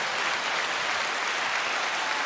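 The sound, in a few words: applause clapping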